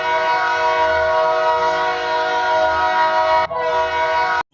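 A train rumbles close by while its horn sounds one loud, sustained multi-tone blast that holds for several seconds, briefly breaks and then resumes, over steady low wheel and engine noise.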